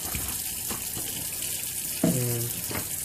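Tap water runs steadily over a chef's knife and cutting board in a home kitchen sink, a continuous hiss with a brief clatter midway.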